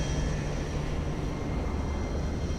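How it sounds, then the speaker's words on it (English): Engines of a British Airways Airbus A380 starting up in MSFS 2024, a steady, loud roar with a low tonal hum that holds evenly throughout, with no talking. "Sounds like a plane is starting here."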